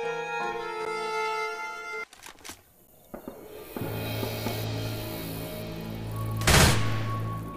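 Gunfire crackles in Left 4 Dead 2 as a minigun and other weapons rattle in bursts, with a steady mechanical whir and a sharp loud blast near the end, and no voices.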